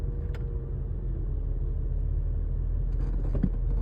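Idling cars stuck in a long blocked-up traffic line, heard as a constant low engine rumble close by, with a few faint clicks and light movement noises over the steady drone.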